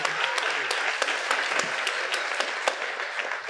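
Audience at a live roast comedy show applauding for a stand-up performer known as the Captain, steady dense clapping with sharp individual claps standing out, sustained throughout.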